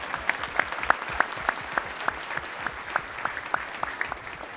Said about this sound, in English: how about another round of applause for our panelists here today?